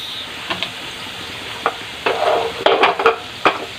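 Pork belly fat sizzles in a pan as the pinakbet base is sautéed, a soft steady hiss broken by a few sharp scrapes and clinks of a utensil stirring, close by with no talking.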